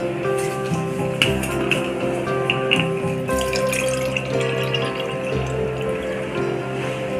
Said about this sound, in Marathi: तर हे एक पूर्ण पातेलं आपण भरून घेतलेलं आहे